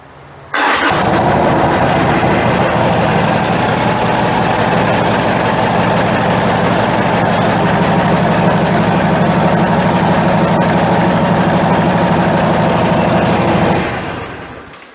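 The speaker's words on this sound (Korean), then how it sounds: "아무래도 머플러 튜닝이 돼 있어서 배기음은 굉장히 크고 좋아요" A Harley-Davidson Sportster 883R motorcycle with a tuned muffler starts and idles loudly and close, a deep, steady, throaty exhaust rumble that holds for several seconds before cutting off.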